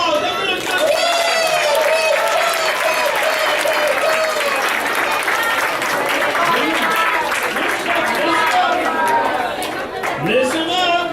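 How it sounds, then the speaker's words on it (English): Children and adults applaud at a vacation Bible school puppet show, clapping mixed with loud chatter, excited voices and shouting from a busy crowd throughout. "give them an applause"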